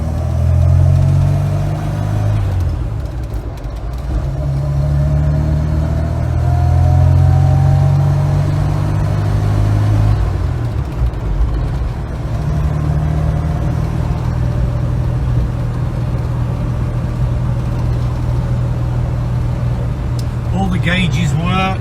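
A 1967 Volvo 122S Amazon Wagon drives along with a steady low engine drone, its pitch rising and dropping around gear changes, while someone talks over it throughout.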